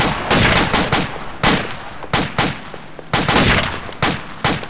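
Video game gunfire rings out in loud, close bursts, with sharp cracks coming in clusters of two or three and separated by brief gaps.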